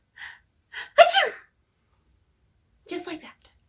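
A storyteller's voice imitates a dragon's sneeze, with soft build-up breaths leading to one sharp loud achoo, followed by a second breathy sneeze-like burst.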